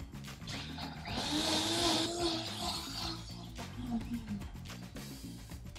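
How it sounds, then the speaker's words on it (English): Blender running steadily as it purees dried chilies with white distilled vinegar into a red sauce, a loud continuous whirring motor drone that holds for several seconds with slight shifts in pitch as the contents churn. "We're gonna let this go in the blender."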